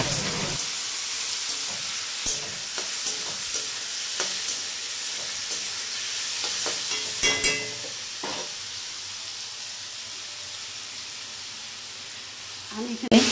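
Potato, beetroot and carrot fry in a pan, giving a steady loud sizzle with occasional stirring clatters and bumps, and a louder scrape near the end.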